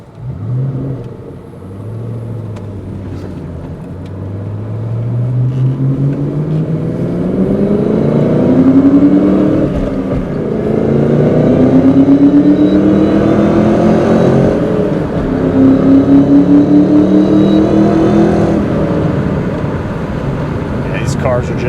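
A 2003 Ford SVT Cobra accelerates on a test drive at about half throttle, engine note climbing through gears in rising sweeps with shifts between, loud from inside the car as someone talks over it.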